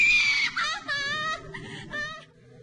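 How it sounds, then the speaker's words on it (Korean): Wailing cries and screams in a dark haunted horror attraction, a high, wavering, drawn-out voice that rises and breaks over a murky rumbling background, loud and sustained. "정체를 알 수 없는 속삭임과 울음소리, 비명소리가 공포를 극대화합니다."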